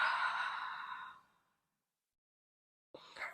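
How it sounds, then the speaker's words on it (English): A long, deep exhale in a beginner yoga flow, a breathy sigh fading out over about a second and a half, then silence before a brief breathy sound at the end. "And a long deep breath out."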